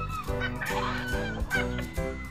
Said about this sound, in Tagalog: Kaya pala pumuputak-putak ka na.